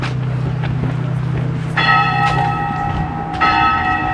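A church bell rings with two loud, ringing strikes about a second and a half apart, each followed by a long decay. A low steady hum and outdoor background noise sit underneath.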